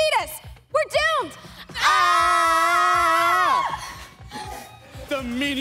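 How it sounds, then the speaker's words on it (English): Several performers in a children's festival stage skit scream and wail in a long, sustained chorus after short shouted calls, loud and close, with mostly no ordinary talking. "Everyone was screaming again."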